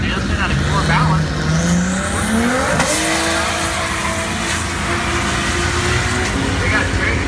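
A turbocharged pickup truck drag races down the quarter mile at a VW series event, its engine roaring loudly as it rises in pitch through the gears, with tire squeal and a race announcer talking over the run.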